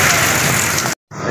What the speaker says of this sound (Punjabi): ਦੇਖੋ ਕਿਆ ਬਾਰਿਸ਼ ਹੈ